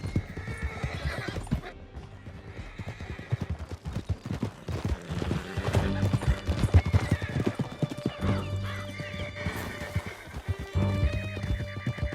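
Horse hooves gallop in Red Dead Redemption 2 with a steady, loud clip-clop rhythm and occasional whinnies, set against a dense bed of game music and action noise.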